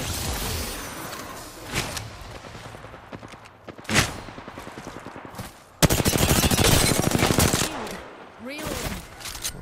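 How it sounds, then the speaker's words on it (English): Bursts of gunfire in an online squad-based shooter video game: scattered single shots early, then a loud sustained automatic volley near the end, with talk over parts of it. "I'm getting shot from behind"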